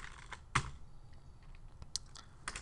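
Keys tapped on a computer keyboard as text is entered, scattered close clicks with a few sharper strikes and pauses, no speech.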